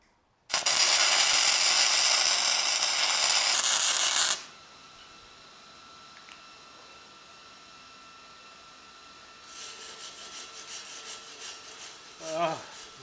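A flux-core weld bead laid on a steel welding table gives a loud crackling, popping arc burst for about four seconds, then goes quiet, then a second, fainter run of crackle starts near the end.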